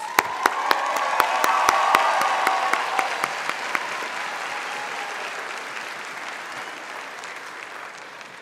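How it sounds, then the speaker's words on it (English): Sustained audience applause at an adult education graduation ceremony honoring faculty and staff, scattered sharp claps standing out over a dense wash of clapping that slowly tapers. "Let's give them a round of applause."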